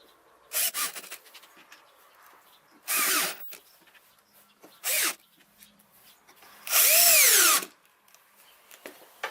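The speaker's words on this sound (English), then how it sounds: "Just put the screws in." A power drill drives screws into a lathe faceplate in a woodturning workshop, short whirring bursts of rising and falling pitch, four separate runs with the last the longest, close and fairly loud against a quiet room.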